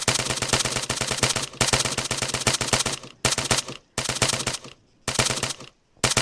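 Long bursts of automatic gunfire in an Arma 3 battle on Stratis, loud rapid rattling shots in sustained strings broken by short silent pauses, with no talking.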